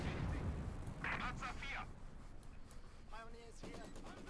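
A divisional field gun fires in the World War II strategy game Company of Heroes 2, a few low booms sitting under continuous commentary from a talking caster.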